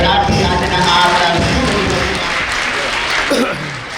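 A crowd at a primary school's new building inauguration claps loudly and continuously, with voices mixed in before the applause thins out.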